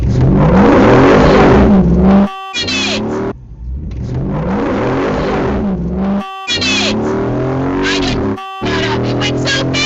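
An SRT Hemi-powered Jeep Wrangler on 40-inch tires accelerating hard in a drag race, the engine revving up through repeated loud climbing pulls separated by brief gear-change gaps.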